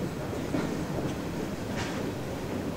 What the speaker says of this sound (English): As you watch this train roll by, pay close attention to its makeup